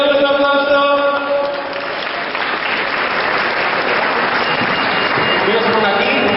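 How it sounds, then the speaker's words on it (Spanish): Audience applause at a writing-contest award event, starting with a few voices and then settling into a dense, steady clapping that lasts to the end. "Venga, un aplauso."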